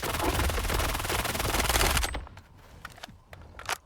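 Rapid automatic fire from a Fora-221 rifle in STALKER 2, a loud continuous burst of shots for about two seconds, then it cuts off into quieter clicks and handling sounds.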